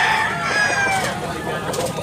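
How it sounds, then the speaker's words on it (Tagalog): A nine-month-old Tasmanian hennie fighting cock crows in a drawn-out call, moderately close, with faint background noise around it. "Quality ang mga manok."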